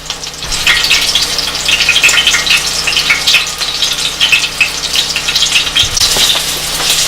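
Panko-breaded wild turkey breast frying in hot oil, giving a loud, continuous, crackling sizzle that stays steady and close throughout.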